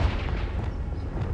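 A Confringo blasting spell goes off in Hogwarts Legacy, a deep booming explosion opening the moment and rumbling away into a dense low roar.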